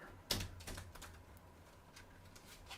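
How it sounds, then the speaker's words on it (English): Tarot cards are shuffled by hand in a quiet room, making soft, clicky riffles and taps in irregular bursts, faint and close, with no voices. "we're going to just do another shuffle here"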